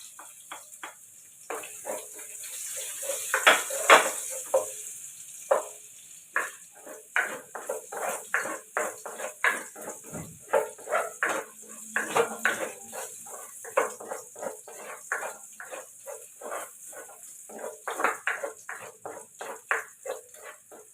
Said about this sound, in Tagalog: Dito na lang tayo mag-isa sa pinagprituan